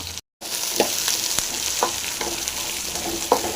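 Small sambar onions, ginger and garlic frying in hot oil, a constant crackling sizzle broken by a few stirring scrapes and a brief dropout near the start, close and loud without speech.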